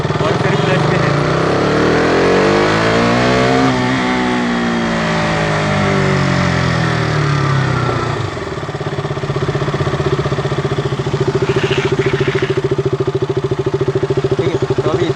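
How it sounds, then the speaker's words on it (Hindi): A motorcycle engine revs up while a learner rider shifts into second gear, the pitch rising then dropping at the change before settling into a steady, loud drone, with talk over parts of it. "बाइक को सेकंड में डालूंगा और थ्रॉटल ले लूँगा"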